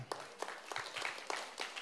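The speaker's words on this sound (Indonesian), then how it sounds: "Beri tepuk tangan dong saudara." A church congregation at a Sunday service gives sparse, scattered applause, a handful of distinct claps with quieter clapping between, fairly faint and loosely rhythmic.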